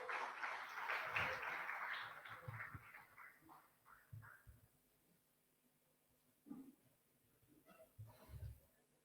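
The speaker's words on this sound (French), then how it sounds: "Un tonnerre d'applaudissements, s'il vous plaît." Audience applause at a women's entrepreneurship program ceremony, a burst of clapping that fades over a few seconds, followed by scattered voices and low thumps.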